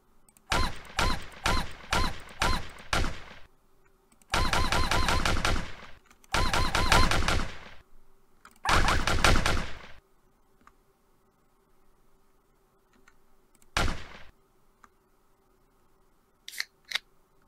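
A gun bear firing in the Endless Furry video game: rapid machine-gun bursts that are close and loud, with several long volleys in the first ten seconds, then a short single burst and faint clicks over quiet game ambience.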